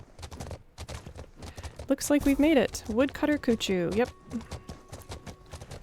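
Horse hooves clip-clop steadily in a horseback survival video game, a close, even trot running throughout while someone talks over the middle part.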